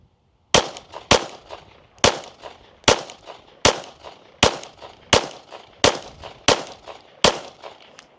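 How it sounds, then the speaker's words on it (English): Pistol shots ring out at an outdoor target, about ten sharp, loud cracks fired at a fairly even, quick pace, each with a short ringing decay. "We're going to shoot a group at the top right target."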